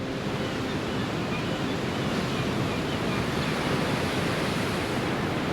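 Ocean surf pounds the west coast of Iceland in a steady, dense roar, with some wind buffeting the microphone and no speech.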